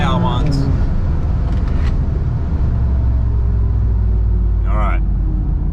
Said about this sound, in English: Fourth gear, try and roll on from 2000, flat out.